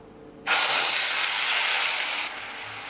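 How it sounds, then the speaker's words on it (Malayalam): Ground masala for a drumstick potato curry hits hot oil after mustard seeds have popped, bursting into a loud, steady sizzle that eases off after about two seconds. "കടുക് പൊട്ടിച്ച് കഴിയുമ്പോൾ നമ്മൾ ഈ അരച്ച് വെച്ചിരിക്കുന്ന മസാല ഇതിലേക്ക് ആഡ് ചെയ്യണം കേട്ടോ."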